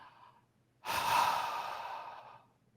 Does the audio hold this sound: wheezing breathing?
yes